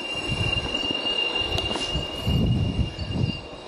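Train sounds from a train music piece, a steady rumbling roll of railroad cars with squealing wheels and a high whine, fairly loud and continuous without any voices.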